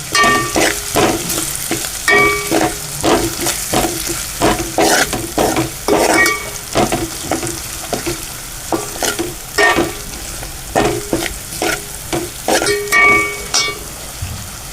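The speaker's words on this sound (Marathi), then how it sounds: "त्यामध्ये टाकू आपण थोडीशी कांदा लसूण मसाला आणि पुन्हा ढवळून घेऊ" Onion-garlic masala frying in a pan for a mixed vegetable curry, sizzling steadily while a spatula scrapes and stirs in quick repeated strokes, close and fairly loud.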